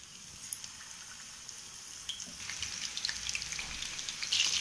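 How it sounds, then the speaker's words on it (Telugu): Chicken pieces frying in a pan on low flame, a quiet crackle and pop that gradually builds into a denser, brighter sizzle toward the end, with no talking. "ఇలా అన్ని ఫ్రై చేసుకోవాలి. లో ఫ్లేమ్ పెట్టుకోండి స్టవ్."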